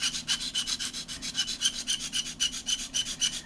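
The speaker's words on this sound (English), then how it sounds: "take a nail file and just run across this" A nail file rasps back and forth across a model car body in quick, regular strokes, close up, a bright scratchy rubbing repeated about five times a second with no talking.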